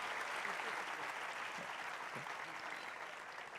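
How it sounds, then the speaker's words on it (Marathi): A hall audience gives a standing ovation at an awards event, with dense, steady clapping filling the room throughout, loud and continuous with a few faint voices mixed into the crowd. "जोरदार टाळ्या होऊ द्यात"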